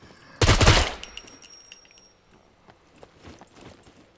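One loud gunshot burst in the video game SCUM, followed by a metallic clink and a few faint clicks and rustles as the scene goes quiet.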